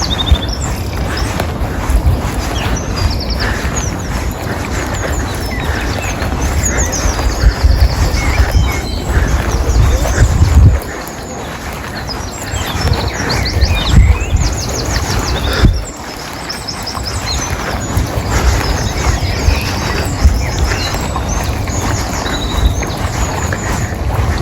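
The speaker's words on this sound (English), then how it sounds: "I'll just let you listen to the bird song for a bit." Dawn birdsong in a garden, several birds chirping and calling continuously at moderate distance over a steady outdoor background hiss, with no talking.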